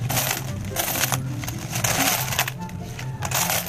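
A handful of small coins is dropped and jingled at a market stall, producing repeated metallic clinks and rattles over a busy background, with no clear talk.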